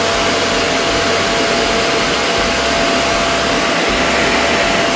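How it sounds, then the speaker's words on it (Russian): A Gorenje VCK 1601 vacuum cleaner drones loudly and steadily, its broad whooshing roar unbroken from start to end, with no voices. "Вот такой вот звук пылесоса."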